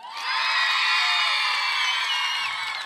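Loud, sustained cheering from a studio audience at a 2009 Bulgarian TV dance-off, backing a contestant with dense whoops, yells and high children's shouts that swell early and stay strong throughout.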